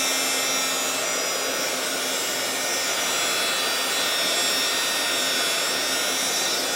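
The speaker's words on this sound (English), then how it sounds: "They'll start with a heat gun." Heat gun blowing steadily at close range while warming the leg of a plastic Breyer model horse, a continuous whooshing roar with no pauses or talk.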